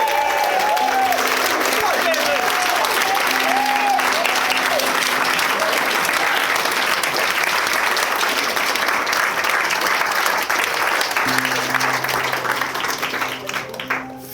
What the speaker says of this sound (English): Let's have a proper round of applause.